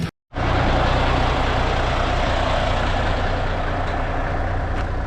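A CAT 308 excavator's diesel engine runs steadily and loud after a brief silent gap at the start, a dense continuous rumble with low throbbing, heard up close as the machine is loaded onto a trailer for a trip to a gravel pit.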